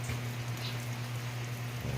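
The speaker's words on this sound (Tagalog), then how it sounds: "taligsik na lang ang uwan dito" Soft, steady patter of light drizzling rain in rural Cebu, Philippines, with a low hum underneath, continuous and even throughout.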